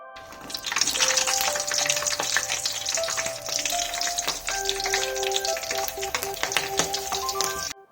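Green chillies, dry red chillies, cardamom and bay leaves sizzle and crackle steadily in hot oil, close and fairly quiet, with occasional stirring clinks, as the tempering for a fish curry fries.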